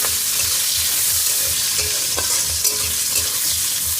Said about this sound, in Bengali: পেঁয়াজ রসুন আর শুকনো লঙ্কা তেলের পর দিয়েছিলাম, সব একসঙ্গে ভালো করে